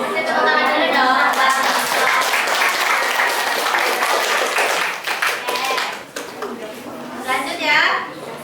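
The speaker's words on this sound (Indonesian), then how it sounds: "Tepuk tangan dulu dong" Loud, dense applause from a school classroom audience fills the room, steady for several seconds, then thins into scattered claps mixed with children's chatter before a last brief burst.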